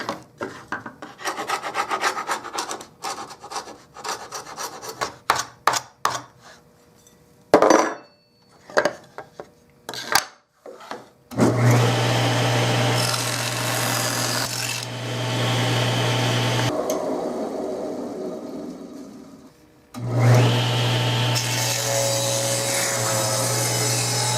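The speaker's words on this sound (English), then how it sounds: "I'm going to go ahead and scrape this glue off" Old glue is scraped off an antique wooden nightstand, first in short, choppy, rasping strokes, then in longer, sustained scraping passes, close and loud with no talk.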